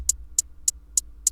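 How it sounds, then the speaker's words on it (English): A simple electronic hi-hat loop plays on every other step in FL Studio: five crisp, evenly spaced ticks, alone and dry. "I also just made a simple hi-hat loop that's on every other step"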